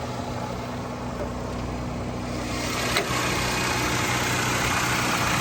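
A 1984 Chrysler LeBaron Town & Country convertible with its Mitsubishi 2.6-litre four-cylinder engine and replaced carburetor idles smoothly under the open hood, a steady close hum with a brief bump partway through, no speech.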